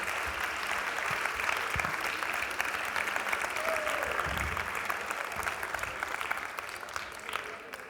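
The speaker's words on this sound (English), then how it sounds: "Please give a very, very, very big applause and warm welcome to Gopi Kallayil." An audience at a talk welcomes speaker Gopi Kallayil with sustained, dense applause that fills the room evenly, loud and continuous with occasional low thumps beneath.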